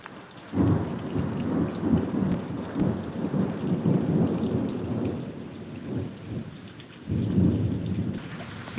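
Heavy rain pours steadily during a severe thunderstorm in Pittsburg, Kansas, with loud rolling thunder rumbling in long low swells that fade and return near the end.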